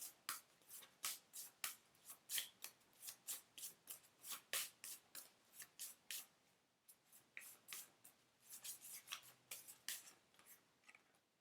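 Oracle cards being shuffled by hand, a long run of quick, crisp riffling flicks in steady rhythm, close and fairly quiet, with a short pause midway before the shuffling resumes; no talking.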